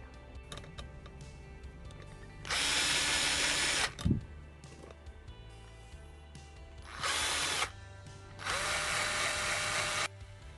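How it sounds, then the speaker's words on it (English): A small power drill bores two holes in a custom Hot Wheels Beetle model car for a new plastic bumper, whirring loudly in three separate bursts with quiet handling noise between them. "As you see, I'm drilling 2 holes for the new bumper."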